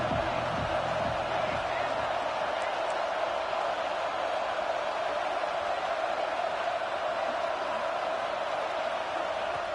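A college football crowd at a Tennessee versus Texas A&M game roars steadily on third down, a dense sustained wall of cheering with faint scattered shouts, heard under talk.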